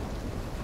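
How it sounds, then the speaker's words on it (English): Superstorm in Call of Duty Black Ops III at sea, a dense wash of rumbling thunder, wind and rain, loud and broadband with no distinct claps over a short stretch. "Incoming superstorm too strong"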